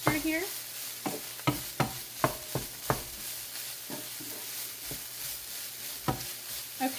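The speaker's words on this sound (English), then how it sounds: "we're going to mix all of these seasonings into our meat mixture here" Seasonings being mixed into a sausage and beef meat mixture in a pot on the stove, with repeated sharp scraping and clinking stirring strokes over a low background sizzle.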